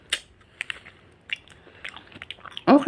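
Someone bites and chews a fruit with crunchy skin and seeds, giving scattered crisp snaps and moist chewing clicks up close, ending in a louder crunch, with no talking.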